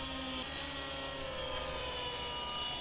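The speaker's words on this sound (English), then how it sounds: "Helicopters every direction, look." Helicopters fly around a heli flying club, a continuous mechanical engine and rotor drone with a steady rattling texture, fairly distant and faint.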